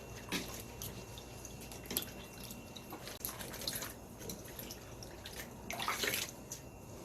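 Tap water running at a sink while bok choy is washed, a soft steady stream with scattered splashes and drips as the leaves are handled, louder bursts of splashing near the end.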